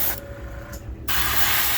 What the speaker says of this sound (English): I always spray it directly on the stencil.